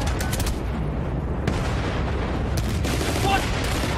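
Gunfire from Battlefield: Bad Company rattles continuously through a dense battle mix, with repeated sharp bursts over a steady rumbling background and shouted voices mixed in.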